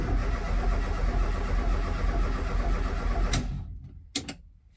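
A Ford Escort RS Turbo engine turns over steadily on the starter for over three seconds without firing, then cuts out, followed by a couple of brief sharp mechanical clicks.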